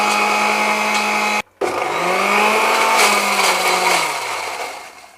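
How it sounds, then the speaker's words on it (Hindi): An electric mixer grinds green Thai curry paste with lemongrass and salt, a loud steady high-pitched whir that cuts out briefly, restarts, and then slowly winds down. "और अब हम इसको पीसेंगे।"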